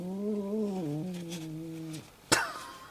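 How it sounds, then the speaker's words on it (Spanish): A cat meows loudly and close, one sustained wavering meow lasting about two seconds, then a brief sharp noise. "¿Qué le pasa al gato?"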